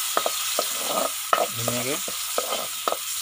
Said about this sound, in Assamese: এতিয়া মই যেন লৈছিলোঁ দালি অলপ, দালিখিনি দি দিম ইয়াতে তেলতে অলপ